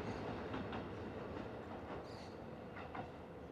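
A JR freight train runs on the Nagoya Port Line past a shopping mall, giving a steady, fairly close rumble of rolling wagons with faint wheel clatter throughout.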